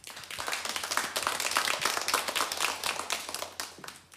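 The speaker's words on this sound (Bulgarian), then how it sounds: "Аплодисменти." An audience applauds at a children's stage show with loud, dense hand clapping that runs close and steady for about four seconds.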